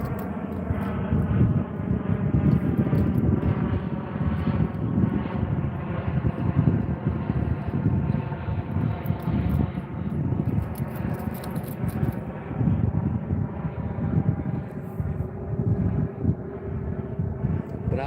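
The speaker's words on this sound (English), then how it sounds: "Damn plane comes through and I gotta like hold for a second to say something." A fixed-wing airplane passes overhead during a live fishing stream outdoors, a steady broadband engine roar that holds for the whole stretch, loud and close, with faint wind noise and some low talk beneath it.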